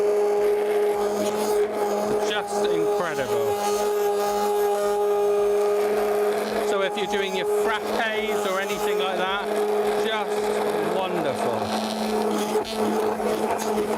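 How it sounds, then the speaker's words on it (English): A blender runs in a jug of water and ice, frothing it up with a loud continuous motor whine and churning, broken by gurgling bursts, while people talk over it. "the trick is not to take the blender out of the liquid too soon"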